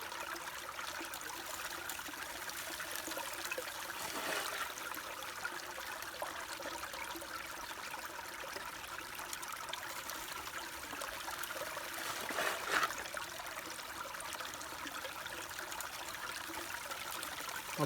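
Water runs continuously through a sluice box on bedrock during gold panning, making a soft, steady trickling rush outdoors, with a couple of brief splashy surges.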